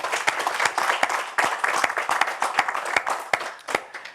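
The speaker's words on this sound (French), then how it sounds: "Je crois qu'on peut les applaudir à nouveau." An audience applauds at the final of a French recitation and poetry competition, with dense, steady clapping that runs throughout at close range and no talk over it.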